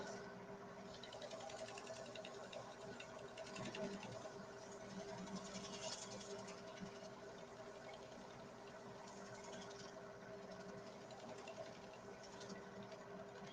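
A wood lathe turns the outside of a walnut bowl, giving a faint, steady motor hum with a constant tonal whine and light cutting texture throughout.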